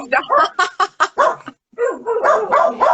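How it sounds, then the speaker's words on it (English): A pet dog wearing a cone barks and yips in a rapid run of close, sharp barks, pauses briefly, then resumes with more whining, excited barking. "Now Jake is barking"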